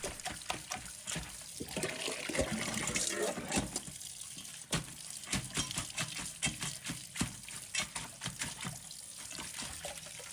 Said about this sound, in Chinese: 再准备几个螃蟹，用流动水把它洗干净。